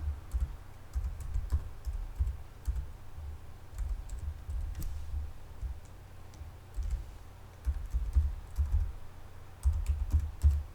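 Keys on a computer keyboard clatter in quick, uneven bursts as an email address is typed into a sign-up form, with short pauses between runs of clicks, close and fairly quiet.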